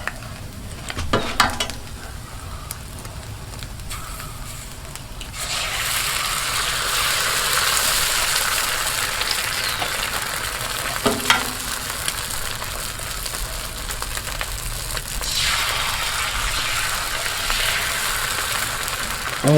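Eggs fry in avocado oil on a Blackstone griddle for a breakfast sandwich. A soft sizzle swells into a loud, continuous hiss, and a few sharp scrapes of a metal utensil cut through it.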